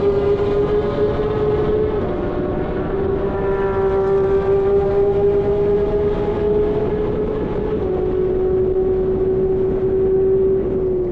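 A Porsche 992 GT3 RS and a 991 GT3 RS, likely with modified headers and a different rear exhaust, hold a loud, steady, high-pitched engine wail that climbs slightly in pitch and carries on continuously without any talk.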